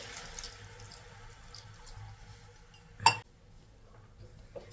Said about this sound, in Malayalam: ഇച്ചിരി വെള്ളം കൂടി ഒഴിക്കാം